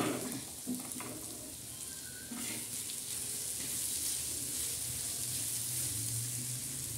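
Peanuts fry in oil in a pan while being stirred for a green chili thecha, a steady close sizzle with soft scraping throughout, no voices.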